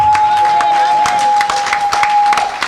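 Church congregation clapping and cheering in praise, a dense steady wash of applause with a sustained tone running through it, loud and close throughout.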